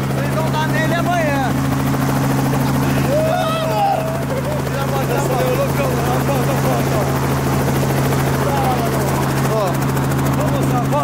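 A helicopter engine and rotor run loud and steady, close by, as the helicopter gets ready to take off. Excited voices talk over the continuous droning hum.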